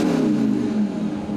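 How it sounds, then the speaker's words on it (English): A VW Touareg V10 TDI diesel engine revs briefly, a low steady drone that rises slightly and settles, close and fairly loud with no talk. "It sounds like a diesel"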